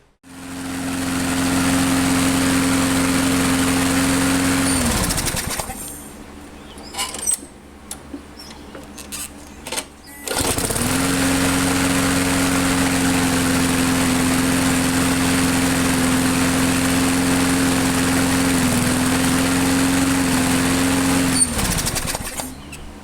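A small engine runs after a carburetor diaphragm and gasket repair, a loud steady buzzing drone for several seconds that cuts out, then restarts with handling clatter and runs evenly again before shutting off.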